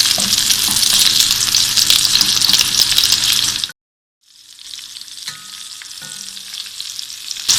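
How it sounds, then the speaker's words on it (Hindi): Beef gola kababs frying in a pan give off a loud, steady sizzle that cuts out briefly and then resumes a bit softer, with faint stirring sounds and no talking. "इसको दूसरी साइड पर भी फ्राई करते हुए"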